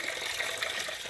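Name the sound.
oil and water mixture draining out of the engine pan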